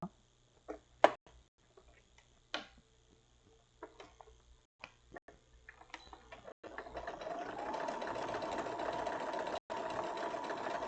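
A sewing machine stitches fabric in bursts of rapid mechanical whirring, starting with short stops and starts, then running in one long steady stretch with a brief pause near the end, close and fairly quiet.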